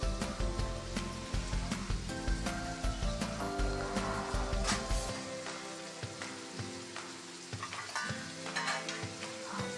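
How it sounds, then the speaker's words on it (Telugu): Chopped coriander stirred in a hot pan while making coriander green chilli chutney, a steady close sizzle with soft scraping and stirring sounds, a low rumble in the first half, no talking. "ఇప్పుడు కట్ చేసి పెట్టుకున్న కొత్తిమీరను కూడా యాడ్ చేసుకొని కలుపుకుందాం"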